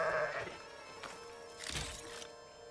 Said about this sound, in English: Sorry, sheep.